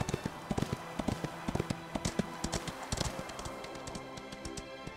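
Horses trotting in the Ostwind video game on the way to a horse race, their hooves clip-clopping in a quick, steady rhythm over soft, continuous background tones.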